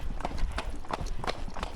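Horse hooves clip-clop steadily along a trail on an endurance ride, a close, regular rhythm of several footfalls over a constant wind and outdoor rumble.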